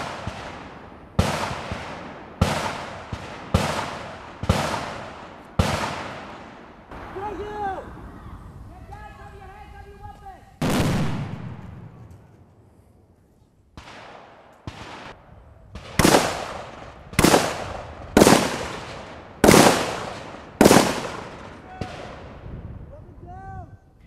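Loud, sharp gunfire bursts during military training at Fort Jackson, a rapid string of shots, then a pause with a voice speaking, then another string of evenly spaced reports near the microphone.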